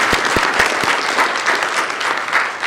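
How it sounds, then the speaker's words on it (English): Audience applause for panelists at the close of a biomedical engineering research and grant-writing session: dense, steady clapping from a room of people, sustained and fairly loud throughout with no speech over it. "please help me give a round of applause to the wonderful panelists today"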